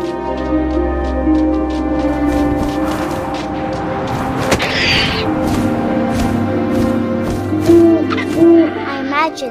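An owl hoots in the video game What Remains of Edith Finch, low calls sounding over a steady wind-like drone, with faint clicks and a couple of brief tonal notes toward the end.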